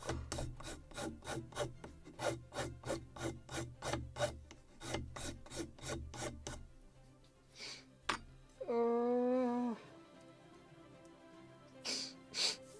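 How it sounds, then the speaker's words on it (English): A sanding block rubs back and forth on a small wooden part for a model of the 1776 gunboat Philadelphia, in quick even strokes up close. The strokes stop, followed by a brief whine and a few scattered noises. "a little more of rounding it, and then precise sanding with the block"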